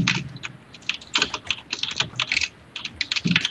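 Close, clattery computer keyboard typing from a player in an online game session, quick keystrokes coming in irregular bursts, fairly quiet and with no voice over them.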